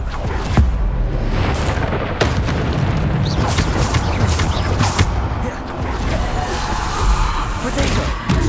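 Bombarda spell explosions boom heavily in a Hogwarts Legacy spell-casting battle, with dense rumbling blasts and magical impacts layered continuously under a player shouting.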